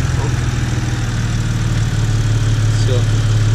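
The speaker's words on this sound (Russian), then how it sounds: "Нагрузка сменилась, обороты поднялись." A BMW 3 Series E90 engine idles with a 370A alternator fitted, a steady low hum with a faint rise in revs as the load changes, heard close and continuous.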